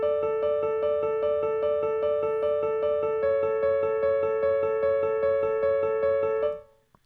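Atmospheric synth pad chords for future bass play alone in an even rhythm of repeated pulses, bright and layered, with the harmony shifting midway before the sound cuts off and fades quickly.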